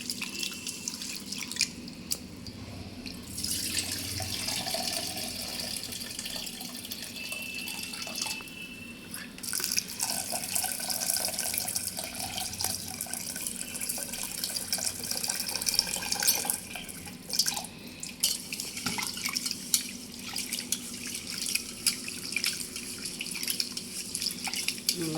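Water poured from a vessel onto a potted plant in a home kitchen, a soft splashing trickle with drips that comes and goes in bursts, fairly quiet, with faint voices under it.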